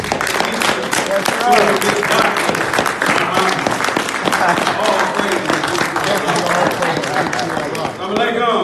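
Dense, loud crowd applause fills a hall for a student minister at a gathering, continuous clapping with scattered cheers and voices mixed in throughout.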